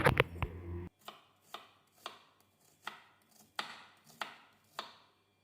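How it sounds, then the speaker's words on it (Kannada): Knife chopping raw onion on a board, a quick flurry of cuts followed by a steady series of single sharp chops at an even, unhurried pace. "ಹಸಿ ಈರುಳ್ಳಿನ ಹೆಚ್ಚುತ್ತಾ ಇದ್ದೀನಿ"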